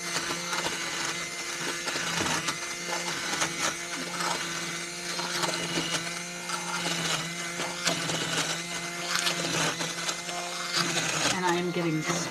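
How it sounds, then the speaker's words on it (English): An immersion blender runs in a pot of marinara sauce in a home kitchen, giving a continuous dense whirring buzz with rattling and splattering throughout, close and steady. "I love the immersion blender"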